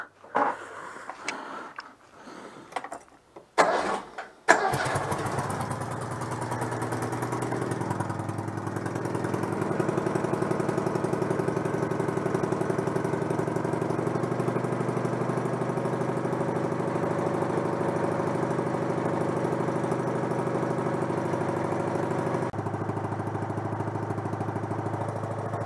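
A Citroën 2CV engine starts after a few uneven sputtering bursts, then settles into a steady, continuous idle hum that runs on alone.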